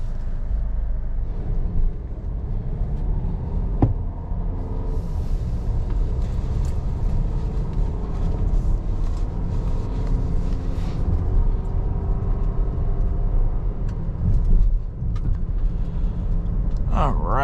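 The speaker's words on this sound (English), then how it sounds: "we'll take the Traverse for a test drive." A 2025 Chevrolet Traverse High Country on the road gives a steady low rumble of engine and tyre noise, heard from inside the cabin without let-up, with a few faint knocks and clicks along the way.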